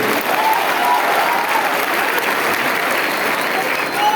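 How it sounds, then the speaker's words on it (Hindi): Crowd at an anniversary celebration event bursting into loud, sustained applause, dense clapping from many hands that holds steady throughout. "एक बार जोरदार तालियां अपने लिए।"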